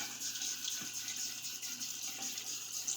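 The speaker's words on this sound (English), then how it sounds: "Let's rinse this tub off" Tap water runs steadily as a shaving soap tub is rinsed under it, producing a soft, continuous splashing hiss without speech.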